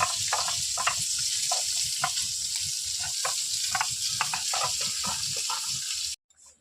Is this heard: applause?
no